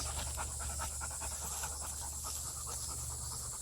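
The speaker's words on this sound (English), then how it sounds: "I'm breathing through my mouth because I'm talking" Heavy, fast breathing through the mouth during a balance and movement workout, a steady run of quick panting breaths close up against a constant low background hum.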